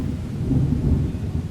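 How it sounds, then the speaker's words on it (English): Heavy rain pours down with rumbling thunder in a stormy scene from the video game Beautiful Desolation, a dense low roar that swells slightly midway and carries on steadily without pause. "Jeez, this rain is bucketing down now."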